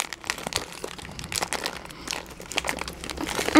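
A Mi Goreng instant noodle packet is handled and pulled to tear it open, giving close, quiet, uneven crinkling and crackling of plastic wrapper with scattered sharper crunches.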